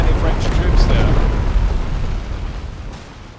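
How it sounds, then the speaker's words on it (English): Cannon artillery fire in the video game Empire: Total War, heard as a loud, continuous booming roar of blasts that slowly fades, with no voice over it. "I will be ordering my cannons to target this position"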